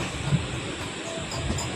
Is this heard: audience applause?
no